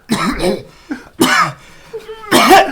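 A voice imitates harsh coughing in short raspy bursts between bits of speech during a tabletop role-playing game session, loud and close.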